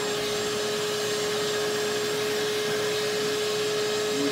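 A Shop Vac wet/dry vacuum running steadily for carpet cleaning, a loud, constant whining roar with a sharp motor hum, close up and with no one talking.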